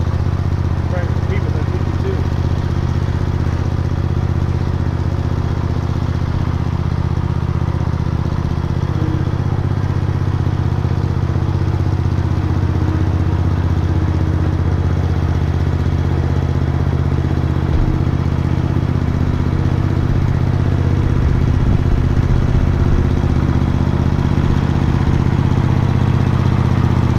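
A 1964 Massey Ferguson tractor engine, started after sitting for 20 years, runs steadily with a low, continuous rumble and some clatter, while people talk over it throughout.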